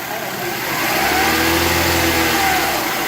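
A car engine revs up and holds near 2,000 RPM during a fuel pressure test. The steady mid-pitched hum climbs from idle and holds loud and close, with no talk over it.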